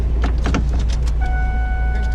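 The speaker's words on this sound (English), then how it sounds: "I'm gonna roll down the window" A power window whirs down on a salvage-title car bought at auction, a close electric motor hum starting partway through after some clicks and rustling inside the cabin, with the engine idling low beneath.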